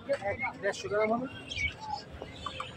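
Siraji pigeons and other caged birds at a busy bird market give short coos and chirps, close by, mixed with people talking nearby.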